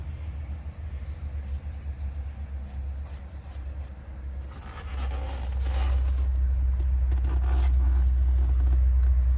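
A 1985 SAR truck's engine idles steadily with a deep low rumble close by, growing slightly louder and heavier about halfway through, with no talk over it.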